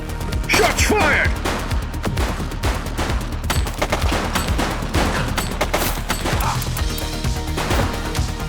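Gunfire fills a shootout in the police video game The Precinct, with rapid, overlapping shots and bursts in loud, dense volleys, plus crashing impacts and a voice calling out over the fight.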